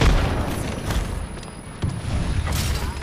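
Frag grenade blast in the video game Apex Legends, a heavy, booming, rumbling explosion that fills the whole stretch loudly, with a fresh low thump partway through over continuous dense noise.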